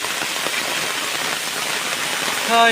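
Heavy monsoon rain falls in a steady, dense hiss, with a brief tonal sound rising at the very end.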